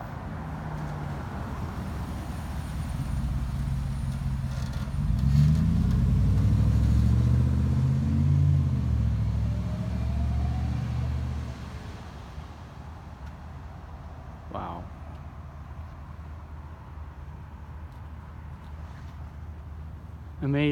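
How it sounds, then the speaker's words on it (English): Passing cars roll through a residential stop sign without braking, a broad engine rumble swelling mid-clip then fading, with faint traffic noise afterward. "Roughly half of the cars that come to our stop sign just blow through."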